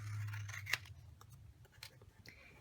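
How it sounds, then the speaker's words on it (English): Scissors cut a small triangle from a paper tab on a gift box, giving several close, sharp snips with soft rustling of paper between them in a quiet setting. "we're going to miter this by cutting out a little triangle like so"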